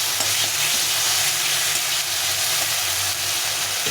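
Green chili and ginger paste sizzles steadily in hot oil with turmeric while being stirred in a pan, a continuous loud fry with faint scraping and no talk.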